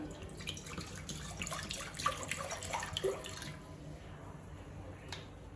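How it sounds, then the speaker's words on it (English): Water pours into a pressure cooker for a pav bhaji base, a steady close splashing and trickling stream that runs about three seconds and then fades into quiet room noise. "So first take the cooker, add water,"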